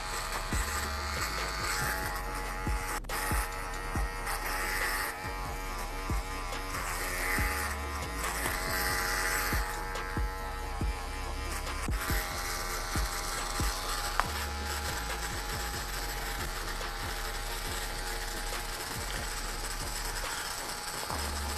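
Electric hair clippers refine a fade on an afro near the parietal ridge, buzzing continuously and close up with small fluctuations as the blades move through the hair.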